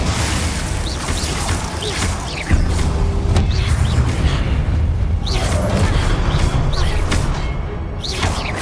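A Confringo fire spell blast erupts in Hogwarts Legacy, a loud booming crash that swells abruptly partway through and keeps rumbling with scattered cracks and creaks over dense, continuous battle noise.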